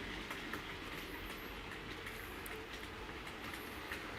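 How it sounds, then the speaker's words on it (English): A model Class 25 locomotive hauls a short freight train, producing a steady, continuous rolling rumble with faint clicking over the track and no talking. "at the moment we've got the Class 25 on a short freight train"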